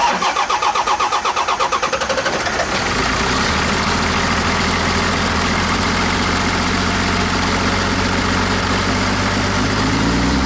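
Cummins diesel swapped into a lowered 1964 Chevy C10 rat rod with a faulty VE injection pump cranks with rapid pulsing, catches, and settles into a loud, steady, rough idle close by.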